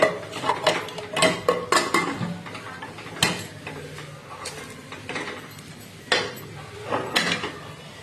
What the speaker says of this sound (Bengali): এই রাখলাম প্রেসার কুকারটা।